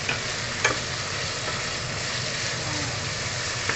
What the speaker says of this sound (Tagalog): Dito na rin tayo mag-gisa ng ating onion at sibuyas